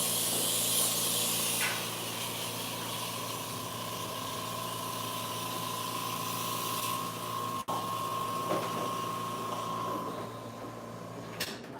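An oxygen infusion facial device hisses steadily, a soft continuous spray of oxygen with a faint mechanical hum underneath and one brief click partway through.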